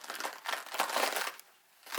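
Knife slicing through a napa cabbage from the root end for kimchi, a dense crisp crunching and crinkling of leaves in bursts over a couple of seconds, close and fairly loud, with a short pause before a final crunch.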